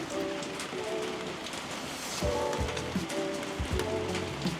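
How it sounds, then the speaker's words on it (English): Heavy rain on a cycling route between Changhua and Hsinchu, Taiwan: steady, dense hiss pours down throughout, with low rumbling thuds and a faint tonal hum underneath, growing slightly louder midway. "Yeah, it's raining. Raining pretty damn hard too."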